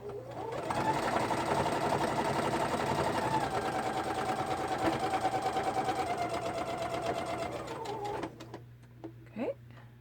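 A sewing machine runs steadily on a lengthened straight stitch of 2.8, a continuous close mechanical whir for about eight seconds before stopping, followed by a few faint handling clicks.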